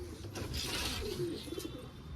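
Soft pigeon coos and fluttering close by inside a net, with light rustling and scraping as the birds shift about; quiet, no talking.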